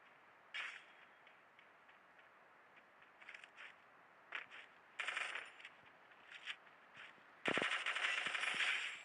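Gunfire in a shooting video game, heard as scattered short bursts of shots, then a sustained loud burst near the end.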